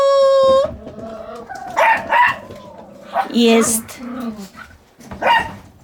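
Yorkshire terriers bark in short, loud bursts scattered between a man's nearby speech.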